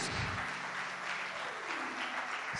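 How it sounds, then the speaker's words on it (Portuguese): A church congregation at a Tabernacles 2021 service claps together: dense, sustained applause filling the room throughout, loud and continuous with a faint cheer underneath. "Dê um aplauso, Senhor Jesus"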